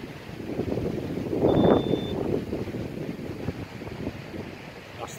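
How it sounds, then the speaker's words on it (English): Gusty wind buffets an outdoor microphone beside fishing water, a low rumbling roar that swells into a stronger blast and then settles back to a steady rush, with no voices. "That's the wind."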